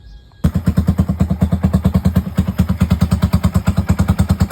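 A damaged motorcycle's engine with an open pipe runs just after starting, loud and close, with a steady, rapid, throbbing exhaust pulse that continues without pause.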